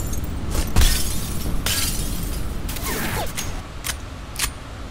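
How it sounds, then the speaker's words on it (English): Glass shatters repeatedly in the shooter game SiN Episodes: Emergence, several sharp crashing breaks followed by tinkling debris and a few scattered later impacts, loud and close with no talking. "You're gonna have to break the glass."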